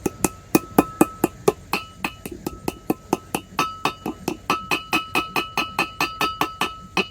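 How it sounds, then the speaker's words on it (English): A regular hammer knocks a wheel bearing seal into place on a Cutlass front wheel, giving a fast, steady series of about thirty sharp metallic taps with a ringing clink. The strikes come close and loud. "Regular hammer."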